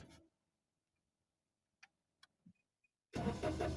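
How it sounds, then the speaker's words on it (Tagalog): A parked car's engine cranks and catches after a few faint clicks and near-silence, then runs with a steady, fairly loud idle as it begins warming up. "Siyempre, atin ang painitin ng ating kotse."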